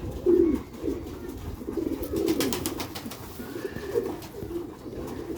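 Pigeons coo softly in repeated low, throaty bursts, some nearer and louder than others, over a steady rustle in a loft of Sialkot high-flying pigeons kept as a hobby.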